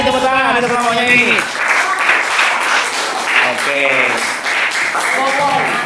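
Applause from an audience at the close of a school project presentation, clapping running steadily through the whole stretch while voices talk and call out over it.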